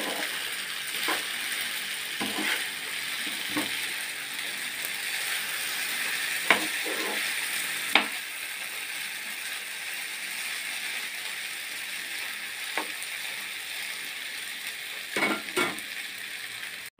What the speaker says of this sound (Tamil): நம்ம நூடுல்ஸை போட்டுக்கலாம், நல்லா போட்டு வதக்கலாம்.